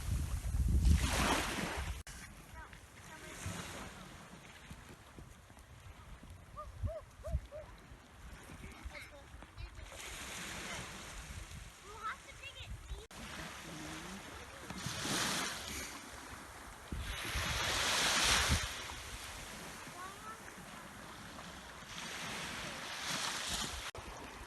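Sea waves on the coast beside a campground on the NC500 route in Scotland: soft surges of surf that rise and fall under gusty wind, fairly faint and broken by light clatter.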